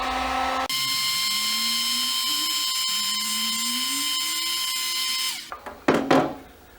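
Heat gun blowing to shrink heat-shrink tubing, a steady whining fan roar with a rising tone for about five seconds, then cutting off into a few soft handling bumps.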